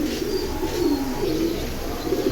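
Cooing from a flock of silver pigeons, including a large male, carries on steadily in a loft: a close, continuous low warble with a few faint chirps above it.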